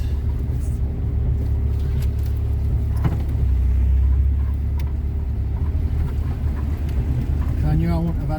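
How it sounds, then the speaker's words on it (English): A car passes on a narrow country road, heard as a steady low engine rumble from inside a waiting vehicle that swells slightly midway, with a voice speaking near the end. "I can see there's another car coming, so I will wait."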